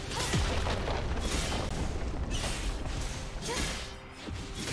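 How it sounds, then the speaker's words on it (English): A turret collapses in League of Legends amid dense, loud crashing booms and whooshing impacts that run continuously, with a few sharper hits standing out from the constant battle noise. "Red team's turret has been destroyed."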